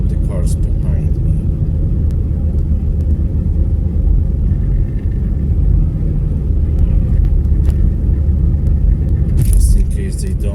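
A car drives along a road at night through Myślenice, its engine and tyre rumble steady and close throughout, with a brief brighter swell near the end.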